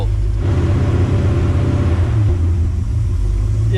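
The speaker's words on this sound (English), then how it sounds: "If you want to give it a really light rev." A Porsche engine, mid electric-vehicle conversion, gets a light rev: a steady, loud low rumble runs close by throughout with a slight swell partway through, and no voices.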